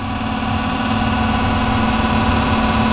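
A furnace blower fan running on generator power, with the gas and combustion motor off, drones steadily and loudly with a low hum throughout, no talking.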